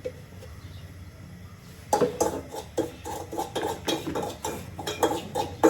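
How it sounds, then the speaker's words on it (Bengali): Semolina fried in ghee in a pan is stirred with a utensil, a quiet soft frying backdrop broken after a pause by a run of close, irregular metallic scrapes and clinks against the pan. "সুজিটা ভেজে নিচ্ছি ঘি দিয়ে"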